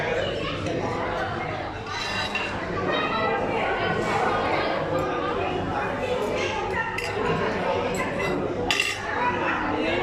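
Forks and cutlery clink against plates at a restaurant meal, with light scattered clinks under steady nearby conversation and background chatter.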